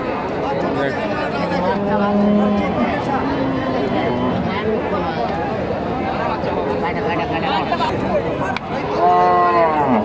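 Cows lowing amid a busy rural cattle market selling dairy cows, with loud crowd chatter throughout; several drawn-out moos rise above the voices, one clear near moo at the end.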